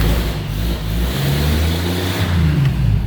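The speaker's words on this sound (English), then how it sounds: "let me rev it up again." A 1947 Chevrolet engine is revved up close, its loud, throaty rumble swelling and easing in a steady, unbroken roar.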